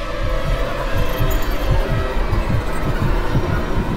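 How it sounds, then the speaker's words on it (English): A heartbeat sound effect from a film's sound design throbs in a steady, repeating low double pulse under a thick, loud ambient wash, deep and insistent throughout. "there's this heartbeat"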